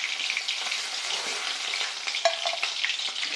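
Pieces of katla fish fry in hot oil, a steady dense sizzle that stays close and fairly loud throughout, with small crackles and a brief sharper pop near the end and no voices.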